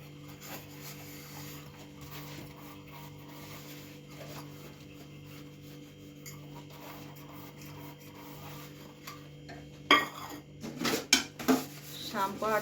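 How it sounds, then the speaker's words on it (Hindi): Dishes, pots and utensils are washed: a long stretch of low rubbing and scraping, then louder clattering clinks and knocks of metal and crockery close by. "मैं फटाफट से बर्तन धो लेती हूँ"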